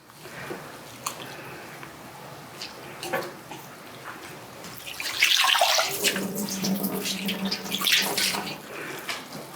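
Blanched spinach dropped into a bowl of cold water for kimbap, then squeezed out by hand: soft watery sloshing and dripping that grows into a louder, sustained splash near the middle, with no one speaking.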